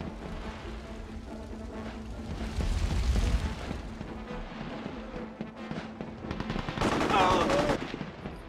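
Gunfire in the video game Mercenaries 2: World in Flames, with bursts of automatic fire and heavy blasts crackling loudly through the battle, and voices shouting over the action.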